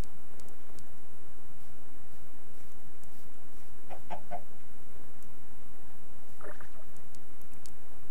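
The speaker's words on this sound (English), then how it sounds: "I can hear a chicken, but I don't see it." A Minecraft chicken clucks faintly a few times over a steady high-pitched tone in the FTB mod pack game, with no one talking.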